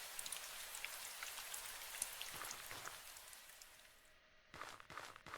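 Rain falls in the post-apocalyptic game Last Breath as a soft, even hiss of droplets that gradually thins out toward the end, followed by a few quiet footstep-like taps.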